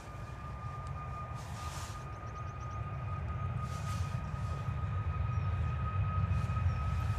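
A Ryanair jet departs from London Stansted Airport, its engine roar building steadily from a moderate rumble to a louder, fuller drone, with a faint high whine throughout and no talking.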